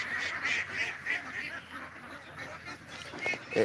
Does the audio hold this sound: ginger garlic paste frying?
no